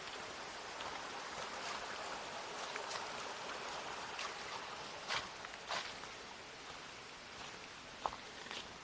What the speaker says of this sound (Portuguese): Estou ouvindo o rio. Tem um córrego próximo,